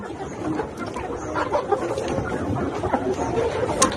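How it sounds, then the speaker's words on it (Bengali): A crowd of layer pullet hens clucks and murmurs continuously, a dense, steady barnyard chatter with occasional louder squawks standing out. "আমার স্ক্রিনে যে লেয়ার মুরগিগুলো দেখতেছেন"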